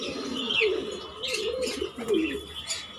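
High-flying giribaz pigeons call from a loft with soft, repeated cooing and a few chirps, close and fairly clear over a quiet background.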